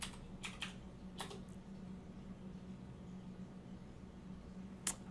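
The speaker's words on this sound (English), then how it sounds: "And so I need to type in my password." Password being typed on a computer keyboard, a few quick bursts of key clicks early on and one sharp tap near the end, fairly close over a quiet room hum.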